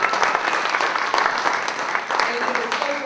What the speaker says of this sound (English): everybody give a hand clap to Mike as he comes in for the word.